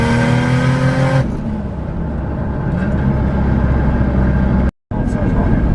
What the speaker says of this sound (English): Alright, so I'm going to do a 4th gear pull.